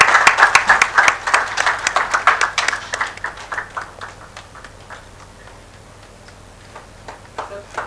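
Audience applause at a community gathering greets a speaker with dense, loud clapping that peaks in the first few seconds, then thins into scattered claps and fades toward the end.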